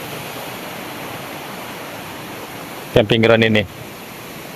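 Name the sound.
river roaring near a camping ground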